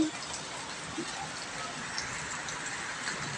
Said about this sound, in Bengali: আপনাদের জন্য আমি বৃষ্টিটা নিয়ে নিয়েছি ক্যাপচার করে